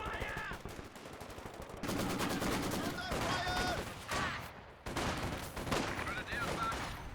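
Maxim machine gun fire in Company of Heroes 2 battle, a dense, continuous rattling burst over mixed battle noise with a voice talking over it.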